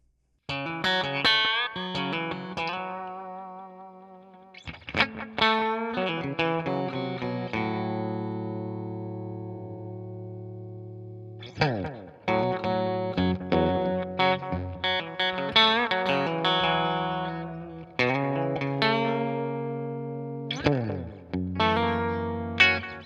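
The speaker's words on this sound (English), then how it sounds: "That right there is the sound of a slapback delay." An electric guitar plays chords and picked notes through a BOSS DM-2 slapback delay, a short, quick echo doubling each attack, some chords left ringing for several seconds.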